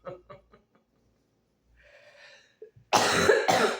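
A few short breathy sounds, a faint murmur, then a loud, harsh cough in two bursts close by.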